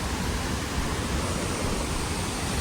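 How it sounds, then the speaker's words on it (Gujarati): Hiradpada waterfall in Maharashtra pours in a steady, dense broadband roar that stays loud and unbroken throughout, with no voices over it. "મિત્રો ફાઇનલી આપણે કેવો ધોધ હતો"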